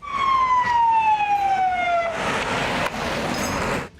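A loud wailing army ambulance siren sweeps downward in pitch, then shifts into a rougher, noisier blare as the vehicle passes close by.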